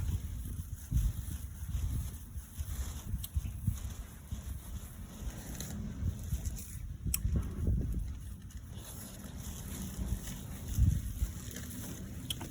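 Wind blows outdoors on a cloudy, gusty day, a low rumbling buffet that swells and eases against the microphone for a long stretch.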